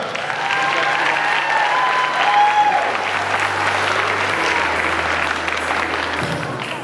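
A crowd at a comic convention cosplay contest claps for a contestant, loud sustained applause with scattered cheering and some talk running underneath for several seconds.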